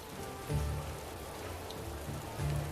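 Steady rainfall pattering on surfaces in the video game Chrono Odyssey, a soft continuous hiss with low rumbling swells now and then, heard alone without talk.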